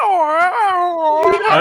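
A tiny pet dog in aggressive play lets out a long, loud, cat-like yowl with a wavering pitch, close by, and a short burst of talk or scuffle near the end.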